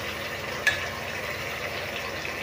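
Cauliflower pieces deep-fry in hot oil with a steady, dense sizzle throughout, a single brief clink near the start, and no voices.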